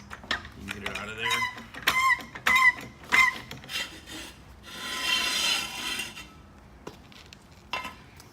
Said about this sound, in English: Just jack it right back up on that same lip I was talking about earlier